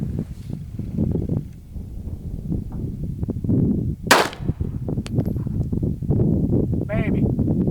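.380 ACP pistol fired at a steel brake plate: one sharp, loud crack partway through, surrounded by continuous outdoor talk and rustling.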